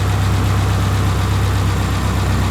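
High-mileage 1999 Subaru Forester engine with almost 200,000 miles idling close up, a loud, steady low rumble with an even pulsing rhythm and no voices over it.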